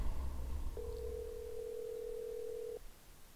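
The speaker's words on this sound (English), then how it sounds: "A phone?" Telephone in The Walking Dead video game sounding a single steady electronic tone for about two seconds over low background rumble, with no speech.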